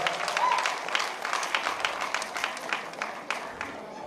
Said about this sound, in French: Elle mérite, il faut l'applaudir très fort